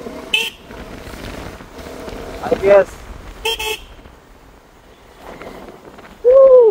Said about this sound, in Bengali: এখানে দুটো হর্ন ইনস্টল করেছি। তো সাউন্ড সো গুড।